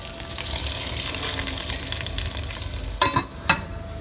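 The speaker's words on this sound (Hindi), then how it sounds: "ये हमारे प्याज का तड़का लग गया है।" Steady loud sizzling of onions frying in hot oil for a tempering, with a couple of clinks of a stirring utensil near the end.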